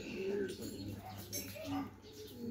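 Pigeon cooing in low repeated phrases at close range, with soft bird calls and some talking over a steady background hum.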